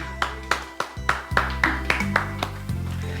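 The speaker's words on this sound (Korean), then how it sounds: "감사의 박수를 드리겠습니다" Rhythmic group clapping at a Friday prayer service in a church, steady beats roughly every quarter second over sustained organ or keyboard chords, moderately loud and fairly close.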